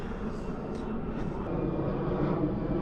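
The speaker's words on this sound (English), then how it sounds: "Another little EasyJet going off there" An EasyJet airliner taking off overhead on an evening outdoors, a steady low rumbling engine roar that fills the background throughout.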